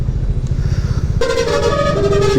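Motorcycle horn honking in a stuttering, catching way, preceded by the close, loud puttering of the motorcycle engine idling; the horn cuts in sharply midway and keeps sounding unevenly to the end.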